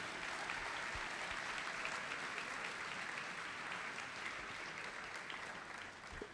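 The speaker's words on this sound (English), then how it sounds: "Please join me in a round of applause congratulating these individuals." An audience at a senior awards night gives sustained, even applause, a dense steady patter of many hands clapping that holds at a constant level throughout without pause.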